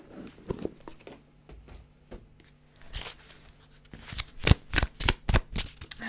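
Tarot cards are pulled and shuffled from a Romance Angels deck: soft papery riffles and flicks come up close, sparse at first, then a quick run of crisp slaps, and no one speaks.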